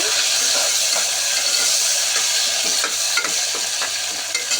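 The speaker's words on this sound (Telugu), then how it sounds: "బాగా ఫ్రై అవ్వాలి." Spices and mint leaves frying in a pan, a loud bright continuous sizzle with scattered scraping stirs and small crackles, close up and without voices.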